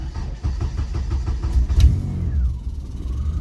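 A PT Cruiser fitted with Megasquirt fuel injection cranks with rapid rhythmic starter pulses, then catches and settles into a steady idle, heard close and fairly loud.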